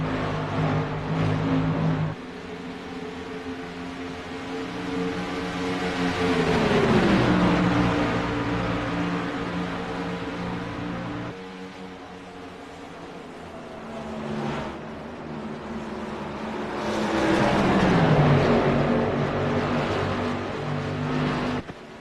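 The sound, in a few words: race cars racing in the Gen 6, likely sim racing video game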